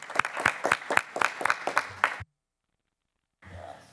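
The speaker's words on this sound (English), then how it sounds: "let's applaud our new board member." Brisk, rhythmic clapping at a school board meeting greets a new board member, distinct claps for about two seconds before cutting to silence, then faint room sound returns.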